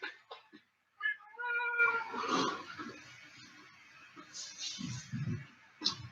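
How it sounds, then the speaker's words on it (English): A cat meows several times in short harmonic calls near the start, followed by rustling handling noise and low background sounds. "It's the Ditto Kitty, folks"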